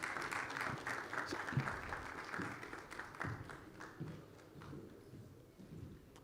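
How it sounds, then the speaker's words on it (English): Audience at a workshop event clapping for a moderator walking to the stage, a moderate, fairly distant round of applause that gradually thins out toward the end. "Please clap for her until she gets on stage."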